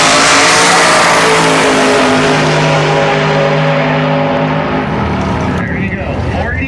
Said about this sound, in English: And here we have Johnny in his nitrous-breathing 750 cubic inch Denny's Racing engine-powered 79 Corvette, and his competitor is Jason Gonzalez in his twin-turbo big block Chevy Camaro.